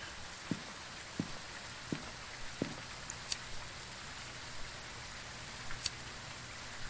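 Steady rain in the Phasmophobia Halloween update, a soft even hiss running throughout with a few faint low thumps and brief sharp clicks scattered across it.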